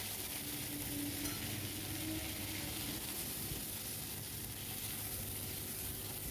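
Ground spice paste fries in oil for an okra curry, giving a soft, even hiss and sizzle with light stirring throughout.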